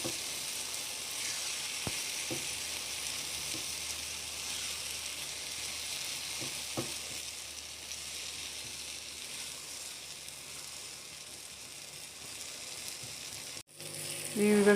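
Baingan bharta (mashed eggplant) frying with spices in a pan, giving a steady, moderately loud sizzle with a few soft stirring knocks, then a brief clatter near the end.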